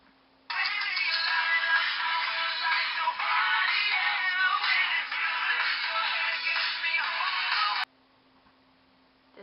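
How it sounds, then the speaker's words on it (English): A phone ringtone plays continuously for about seven seconds, a bright, dense musical tone that starts and stops abruptly against near silence. "This was my old ringtone."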